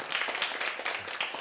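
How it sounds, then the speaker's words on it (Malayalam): Children clapping their hands together in a brisk, scattered burst, fairly quiet and slightly distant, with no voices over it. "നന്നായിട്ട് കൈയടിച്ചേ"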